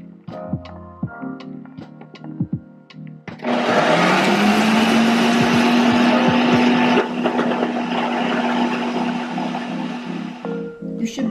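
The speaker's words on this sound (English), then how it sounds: "start your blender" A blender starts up after some quiet handling noises and runs loudly and steadily for several seconds pureeing ginger beer ingredients, its motor whine holding close and constant.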